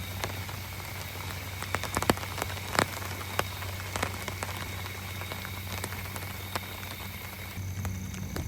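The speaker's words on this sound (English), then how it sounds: "A little bit of some more rain coming back in here." Steady rain patters on surfaces around an island camp, with scattered louder drips and taps over a constant soft hiss at moderate volume.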